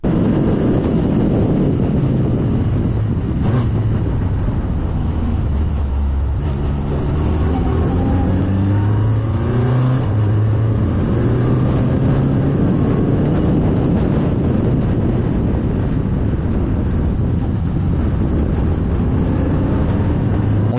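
A Formula 4 single-seater race car at speed, its engine a loud continuous drone with shifting pitch as it revs and changes gear, heavy wind roar over the microphone throughout.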